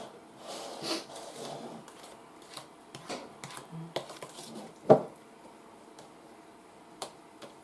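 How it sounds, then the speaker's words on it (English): A spatula scrapes cake mix batter around a big mixing bowl in a few soft, scattered scuffs and knocks, with one sharper clack near the middle and otherwise quiet pauses. "And then I scrape it"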